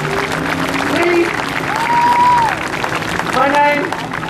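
Crowd applause at an outdoor buskers festival in Saint John, New Brunswick, steady clapping with scattered voices and whoops rising over it, fairly close and loud.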